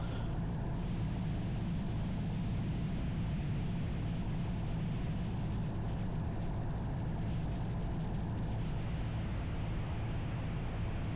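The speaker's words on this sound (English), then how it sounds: "this is the worst landing I've done in Frankenstein so far" A light airplane nicknamed Frankenstein comes in to land, its propeller engine a steady, loud, close drone with broad rushing wind noise throughout, no voices.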